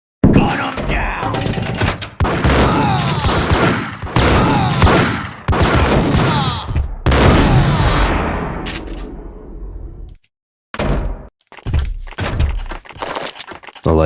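Loud, dense bursts of gunfire crackle through a Max Payne Mobile shootout, rapid volleys with thuds and breaking debris, pausing briefly before resuming in sharp close shots.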